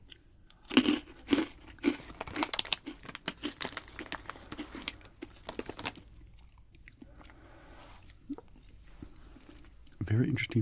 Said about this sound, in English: The biscuit is crunchy.